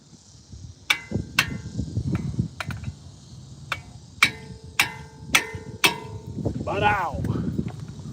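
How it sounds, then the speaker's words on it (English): A handheld impact screwdriver is struck repeatedly while working on the brakes of an Acura MDX, giving sharp metallic blows at uneven intervals, close and fairly loud, with a person's voice heard briefly. "Impact screwdriver for the win."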